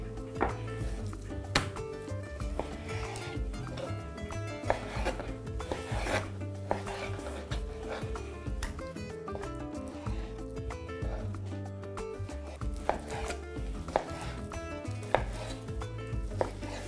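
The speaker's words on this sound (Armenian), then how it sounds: "Փափկամիսը կտրատում ենք փոքր չափաբաժինների և գցում ենք մարինադի մեջ։" A knife chops chicken breast into small pieces on a board, giving repeated close knocks in an irregular steady rhythm over soft background music, with no talking.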